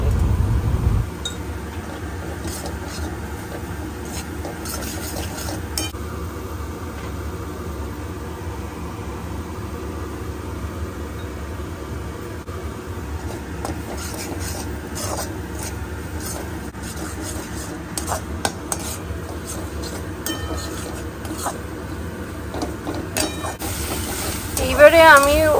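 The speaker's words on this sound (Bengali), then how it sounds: "হলুদ, জিরে, ধনে আর একটুখানি শুকনো লঙ্কা দিয়ে ভালো করে এগুলোকে মিশিয়ে নেবো এই পেঁয়াজ আর আদা রসুনের সাথে" A spatula stirs turmeric, cumin, coriander and dried chilli into onion and ginger-garlic paste in a pan, with steady scraping and soft sizzling over a constant background hiss for a long stretch.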